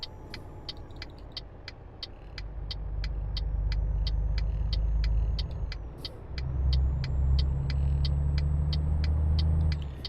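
Truck engine retarder braking on a downslope between Wroclaw and Dresden, a loud, steady low droning rumble that swells, dips briefly and returns, under a regular ticking from the cab, with no talk.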